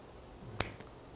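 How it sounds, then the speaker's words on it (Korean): A single sharp hand clap with the elbows bent, made during a golf instruction demonstration, crisp and close against a quiet room with a faint steady hum. "팔꿈치 접은 상태에서 여기 박수를 쳐보자는 거예요"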